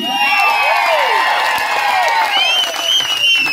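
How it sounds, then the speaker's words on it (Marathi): A rally crowd applauds and cheers for the local MLA Praveen Mane at a public meeting in Bhigwan, sustained loud clapping mixed with whoops and shouting filling the whole stretch. "एकदा हात वरती करून भैयासाठी टाळी."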